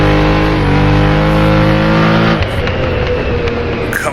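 USAC sprint car engine in Assetto Corsa, the Pikes Peak hill climb, holding a loud steady drone with strong harmonics on a long gear, then a gear change or lift at mid-clip into a rougher, dropping growl.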